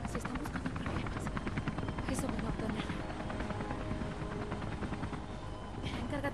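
A video game helicopter's rotor chops loudly and continuously, close and steady, with scattered sharp clicks and bangs over the drone, from Beyond: Two Souls.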